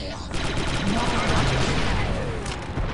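Blaster turret gunfire in Star Wars: Republic Commando on Kashyyyk, a dense, sustained stream of rapid shots running loud and continuous through the whole stretch, with a busy battle din layered underneath.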